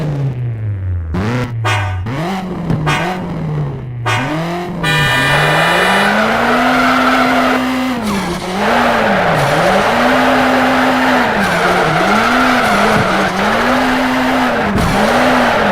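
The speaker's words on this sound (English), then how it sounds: "I want you to get some good speed going before you toss the car into drift." A car drifting in Need for Speed Shift, with a loud sustained tire squeal that wavers as the engine revs rise and fall, sliding continuously through the turns up close.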